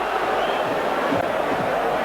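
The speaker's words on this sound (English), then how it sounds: "The crowd in a ferment now." A rugby league crowd roars steadily at a Hull KR versus Hull match, a broad, distant wash of massed voices sustained throughout with no break.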